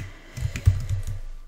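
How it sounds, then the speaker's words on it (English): A short run of soft keystrokes on a computer keyboard, several taps clustered together near the microphone, with one sharper key press in the middle and no speech. "Okay, I'm doing great with my typing today."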